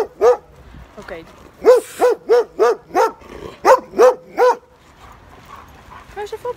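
A dog barks repeatedly in a quick run of about a dozen sharp, close barks, with a brief spoken word at the start and some softer yips near the end.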